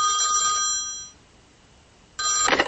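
Telephone ringing: an electronic ring tone sounds for about a second, stops, and starts again near the end, loud and close.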